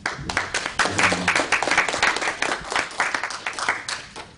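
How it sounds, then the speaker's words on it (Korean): Audience applause at a Korean-language political debate event in Los Angeles: dense, steady clapping from a crowd that lasts about four seconds, with a brief spoken thank-you over it. "박수 치고 할까요?"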